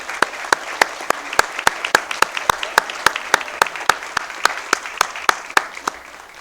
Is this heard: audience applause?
yes